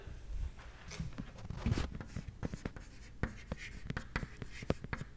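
Chalk or marker writing on a board during an engineering lecture, with scattered strokes and taps across several seconds, fairly quiet and close, with a few soft footstep-like thumps and no speech.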